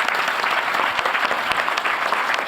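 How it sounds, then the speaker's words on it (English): Audience applause at a Los Angeles ska history panel in 2017: a steady, dense wash of clapping hands from a crowd, sustained evenly throughout with no speech over it. "Give them a round of applause for their bravery."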